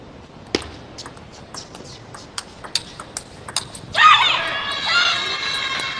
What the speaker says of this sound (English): That's a loud cheer up by Hina Hayata. She has earned this point.